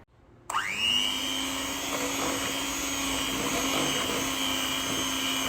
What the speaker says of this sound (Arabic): وبخفقهم مع بعض